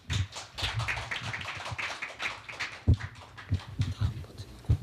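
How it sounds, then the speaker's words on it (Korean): Applause from an audience welcoming a professor's lecture at a Korea University event, a dense patter of clapping hands that swells and continues, with a few sharper, louder claps standing out near the end. "박수로 청해 주십시오."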